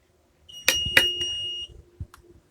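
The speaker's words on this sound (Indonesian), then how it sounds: "buzzer akan memberi notifikasi bahwa perangkat timbangan digital sudah berhasil dinyalakan" A buzzer on a digital weighing scale sounds as the scale powers on, giving a few short, close tonal beeps in quick succession followed by a softer click or two.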